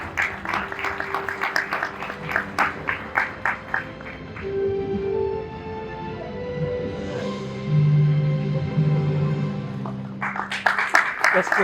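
Audience clapping for architect Reza Khatun at an interior designers' event in Thane, India, with rhythmic claps at the start and end of the applause and sustained tones and murmur in the middle.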